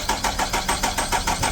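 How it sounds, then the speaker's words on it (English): A 2013 Nissan Altima engine cranks without starting, the starter turning over in a steady rapid rhythm of about eight even pulses, loud and close with no voices. "When I crank the engine,"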